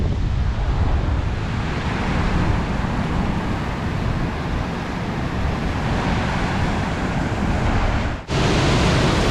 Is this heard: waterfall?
yes